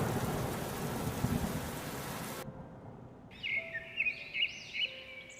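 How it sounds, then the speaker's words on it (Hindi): Heavy rain pours down with a low roll of thunder, loud and dense. Then the downpour cuts off abruptly, leaving a quieter stretch with a few scattered high calls. "तेज हवा चलने के बाद बरसे बादल किसानों पर आफत बनकर टूटे।"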